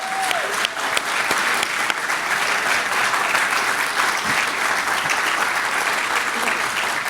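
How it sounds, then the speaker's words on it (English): Sustained audience applause at a district recognition dinner, dense even clapping from a seated crowd lasting several seconds at a steady level with a few sharper claps standing out. "Please join me in another round of applause for their service."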